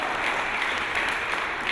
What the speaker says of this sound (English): I would like to applaud the intervention, if you don't mind.